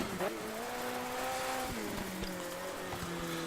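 Rally car racing on a stage in the video game DiRT 3, engine revving up and down through gear shifts with brief tire noise, close and fairly loud, with no talk.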